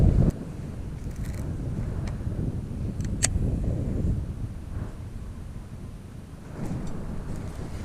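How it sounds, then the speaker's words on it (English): Strong wind buffeting the microphone while fishing on a pond, a continuous low rumbling roar with gusts rising and falling, and a few faint clicks over it. "it is freaking windy"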